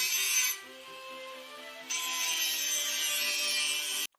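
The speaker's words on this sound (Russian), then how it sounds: "Почему он поставил звук болгарки?" Game sound effect of an angle grinder, a steady loud grinding whine with dense harsh noise that dips briefly and surges again before cutting off abruptly, no talking over it.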